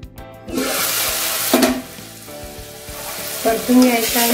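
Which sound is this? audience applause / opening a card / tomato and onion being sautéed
tomato and onion being sautéed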